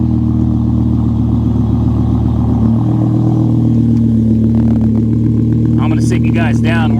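A BMW M5 V10 engine idles with a deep, steady rumble, then shifts slightly in tone; a few faint higher noises appear near the end.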